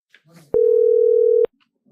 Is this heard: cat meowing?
no